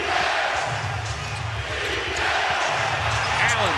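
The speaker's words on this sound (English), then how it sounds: "The Staples Center crowd very much alive here." Crowd at the Staples Center during an NBA Finals game between the Lakers, a loud, constant roar of arena noise with a basketball bouncing on the court, under a commentator's voice.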